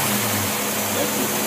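A big carbureted engine running rich on a large 800 CFM Rochester carburetor gives a steady, dense, broadband roar, heard close and unbroken for a brief stretch.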